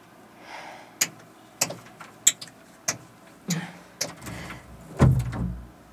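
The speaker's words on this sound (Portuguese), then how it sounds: "Abra esta porta, Hortência." A door being opened after knocking: a string of sharp clicks and knocks, latch and handle rattling, ending in a louder thump and scrape, close and fairly loud, with no voices.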